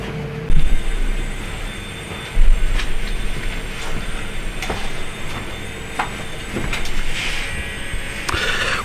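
A long-arm quilting machine stitching a pantograph row, a continuous mechanical whir with rhythmic rattling and clacking, fairly loud and close, with a couple of heavier thumps as the carriage moves.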